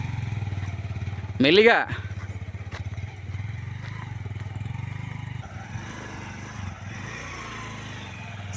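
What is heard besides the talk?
motorcycle struggling on a rough slippery hill road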